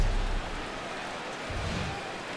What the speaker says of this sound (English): Rain falling here at game time